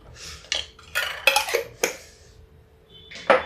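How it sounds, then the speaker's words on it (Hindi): A lid set onto a cooking pot of arhar dal with a garlic and chili tempering: several sharp metallic clanks and rattles close by, with a quiet pause before a final clatter. "इसको हम ढक देते हैं, ढक के इधर रख देते हैं।"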